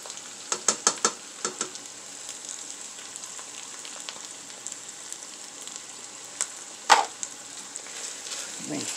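Ham, sausage, mortadella and salchichón fry together in a pan for frijoles charros. A soft, continuous sizzle carries a scatter of small crackles and a few stirring clicks, with one louder knock near the end.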